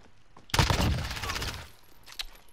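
MP7 submachine gun in the game Modern Warfare firing one loud, fast automatic burst of about a second, then a brief quieter tail.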